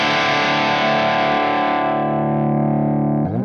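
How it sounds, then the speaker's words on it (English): An electric guitar chord rings through a Michelangelo Dophix overdrive pedal set at twelve o'clock with drive only. The saturated, distorted chord sustains loudly and decays slowly before a quick scrape of strings at the end. "Pedal at 12 o'clock, only to drive."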